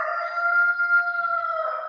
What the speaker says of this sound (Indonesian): Kok ada ayam keluruk ini?